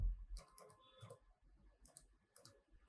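Typing on a Mac keyboard, several soft key clicks in small clusters, faint and close, with no talk.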